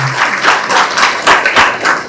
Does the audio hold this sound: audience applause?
yes